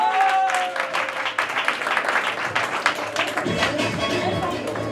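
A church congregation clapping and acclaiming during a French-language service, a burst of crowd applause that is loud at first and then tapers, with voices mixed in.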